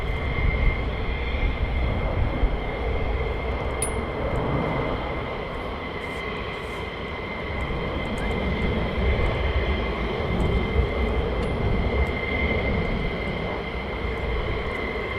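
Fighter jet on approach to land at RAF Lakenheath, a loud continuous roar that holds steady and slightly swells over several seconds, heard alone.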